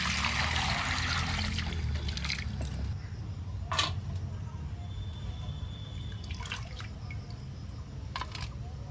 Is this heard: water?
yes